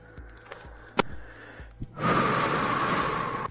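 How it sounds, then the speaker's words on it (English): Breathing picked up by an unmuted microphone during an online race chat: soft puffs and sniffs near the mic, then a louder sustained rush of breath or blowing noise close to the mic. "Who hasn't muted their mic? I can still hear him breathing."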